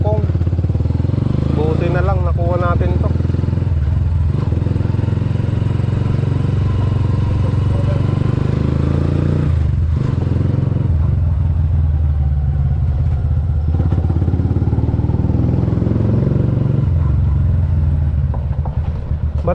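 A Yamaha Mio scooter engine runs steadily and loudly throughout, with clattering and thumps and people talking over it.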